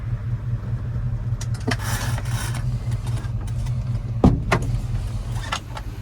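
Engine of a 1955 shop truck idling and rumbling on a test drive, a low steady drone underneath, with a few clicks and a sharp thump partway through.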